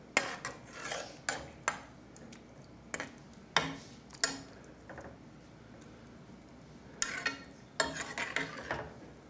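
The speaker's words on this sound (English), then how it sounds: "And I stir this into that." A spoon scrapes and clinks against a bowl in scattered bursts while a sauce made with Worcestershire is stirred, sharp close taps separated by quiet pauses.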